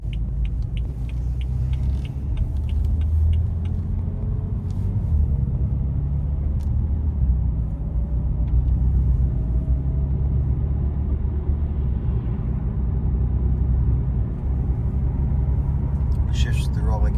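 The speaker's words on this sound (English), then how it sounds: "you could hear the rocks kicking up on the side of the car." Steady road rumble from a BMW M3 F80 in motion, with faint scattered ticks and pings of gravel striking the body underneath the engine drone.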